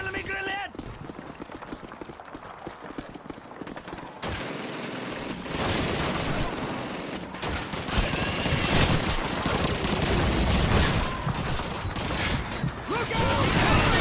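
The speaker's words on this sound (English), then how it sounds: "It's an MG-42! We must stop it!" Call of Duty 2 desert battle: MG-42 machine gun fire in long chattering bursts among other gunfire and explosions, loud and dense, with shouting soldiers' voices mixed in.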